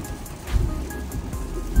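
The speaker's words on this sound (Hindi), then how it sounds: "अभी देखे तेज किस्म की बारिश स्टार्ट है।" Heavy rain starts pouring outdoors on the way to a car auction in Japan, a steady broadband hiss of drops beating on surfaces with low rumbling underneath, continuous and fairly close, with no talking.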